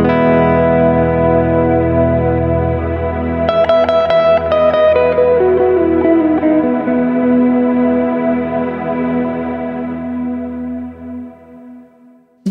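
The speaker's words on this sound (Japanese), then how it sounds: "リバーブを延々伸ばすときには一回タップすればいい" A Strymon Cloudburst reverb pedal holding a guitar chord in endless sustained reverb, the wash ringing on loud and steady while a few picked notes are layered over it before the tail fades and cuts off.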